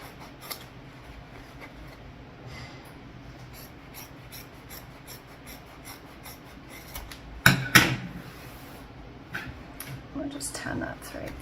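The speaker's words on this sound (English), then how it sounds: "So I'm going to trim down the seam allowances." Scissors trim the fabric seam allowances on a sewn bag, a few crisp close snips clustered together after a quiet stretch of faint handling.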